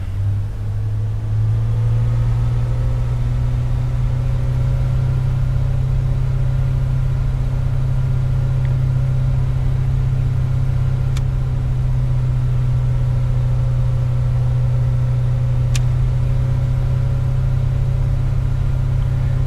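A Piper Comanche 250 engine holds a steady run-up at 2000 RPM in a flight simulator, a constant, loud low drone with a stable tone and two faint clicks.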